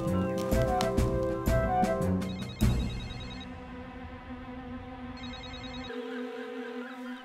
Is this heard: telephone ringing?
yes